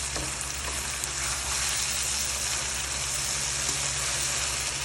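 Butter garlic fish frying in a pan, a steady dense sizzle holding at constant loudness throughout, close and alone with no voices.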